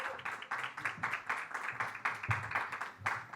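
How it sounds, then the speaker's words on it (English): An audience at a fintech conference panel claps for speakers on stage, a dense steady applause that holds at even loudness throughout. "A big round of applause"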